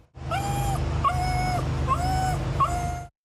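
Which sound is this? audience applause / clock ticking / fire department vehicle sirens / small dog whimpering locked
small dog whimpering locked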